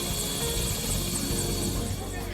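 Helicopter landing in a village in Kasganj's Gadi area, a loud, steady rotor drone and engine roar that fills the whole stretch, with crowd noise and voices blended underneath.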